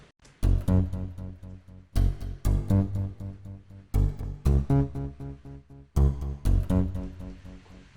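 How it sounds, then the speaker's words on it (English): Punchy plucked double bass slaps in a repeating rhythmic pattern, sharp percussive attacks with short decays, groups of hits recurring every two seconds, loud and unaccompanied. "like a double bass string slap sound"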